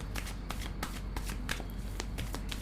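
Tarot cards are shuffled by hand in a quick series of crisp riffling bursts, close and steady throughout.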